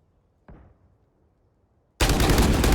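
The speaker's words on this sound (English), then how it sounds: "The gunshots back and forth." A single sharp gunshot from a Valorant esports match rings out and decays, then after a pause a burst of loud, dense rapid gunfire erupts and continues.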